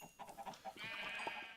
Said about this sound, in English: Let's breed all the chickens